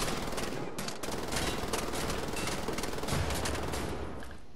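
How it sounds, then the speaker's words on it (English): Rapid automatic gunfire from the shooter game Wolfenstein: The New Order rattles on loud and continuous, with brief dips and a short break near the first second, dense bursts filling the whole stretch. "I had to shoot enemy when it's about to throw a grenade at me"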